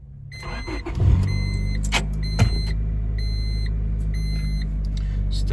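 A car engine cranks and catches after a speed sensor replacement, settling into a steady idle hum alongside a few electronic chimes and dashboard beeps, with no talking.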